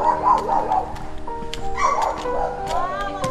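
A dog barks and yips several times in quick bursts close by along a rural path, the calls rising and falling against a faint background.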